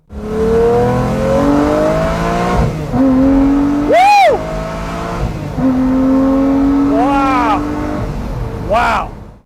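Lamborghini engine revs hard and accelerates, loud and close, climbing through gears with sharp upshift dips and rising whines, as a voice talks over the roar.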